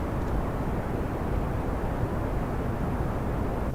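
A rocket engine roars steadily in Kerbal Space Program while being throttled back during ascent, a loud, even, rumbling noise with no clear change in level across a few seconds and no talk.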